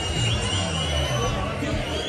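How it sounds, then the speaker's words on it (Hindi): A dense New Year's Eve crowd packs Mall Road in Shimla at night, a continuous close babble of many voices and street hubbub with someone talking nearby. "आज है 31st नाइट और मोटा ही क्राउड भाई जी मॉल रोड पर"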